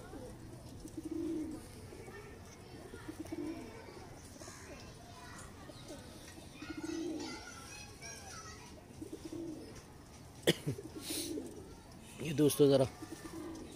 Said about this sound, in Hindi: ये बिल्कुल सलारे टेडी कबूतर है